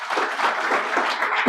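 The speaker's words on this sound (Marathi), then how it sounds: "एकदा तुमच्यासाठी टाळ्या वाजवा." Audience at a Marathi stage program clapping in a brief, steady burst of dense applause, close and moderately loud.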